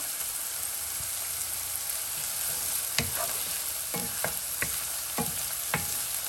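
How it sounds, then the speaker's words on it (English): Onions sauté in a hot pan for a vegetarian Manchurian, a steady close sizzle broken by several sharp stirring scrapes and taps. "So we're going to saute it for around a minute."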